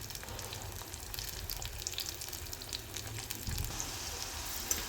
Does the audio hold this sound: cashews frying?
yes